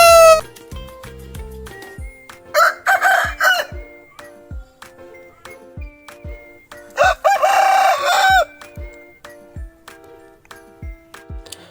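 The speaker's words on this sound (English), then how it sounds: "H for hen." A rooster crows loudly twice over a repeating musical beat, the calls separated by several seconds.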